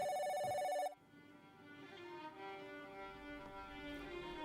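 A mobile phone rings with a bright, repeating electronic ringtone for just under a second, then cuts off abruptly, leaving a steady hum of room tone with sustained tonal background.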